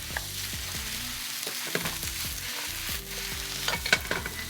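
Japanese mushrooms sauté in a pan over lowered heat, giving a steady soft sizzle with repeated stirring scrapes and clacks of a utensil, close by and without talk.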